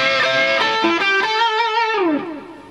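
A short distorted electric guitar blues lick in position 4 minor pentatonic and blues scale: a few quick picked notes, then a sustained bent note that slides down and fades.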